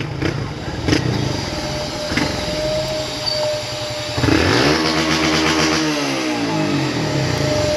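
A motorcycle engine revs up close at a car wash, roaring in loudly about halfway through and holding a strong, throbbing drone to the end after a quieter stretch of background noise.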